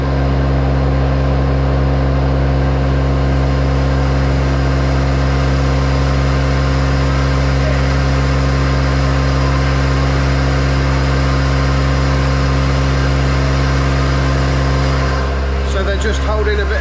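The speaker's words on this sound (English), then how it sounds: "Just holding a bit of steady load on Reece's truck just to bed it in." Reece's truck holds a steady, constant engine drone under load on a rolling road dyno, a loud unchanging hum with deep low tones that tapers slightly near the end.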